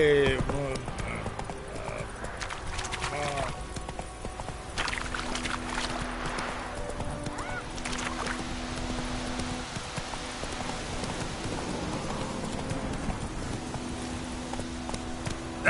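The horse Roach's hooves clip-clop steadily in The Witcher, a moderately close rhythmic trotting under game ambience, with a voice talking over parts of it.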